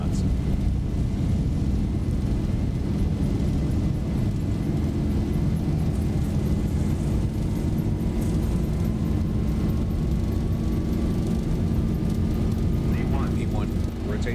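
A Boeing 737-800 rolls down the runway for takeoff in the X-Plane 11 flight simulator game, its engines giving a steady, loud roar with a faint rising whine, unbroken for the whole stretch.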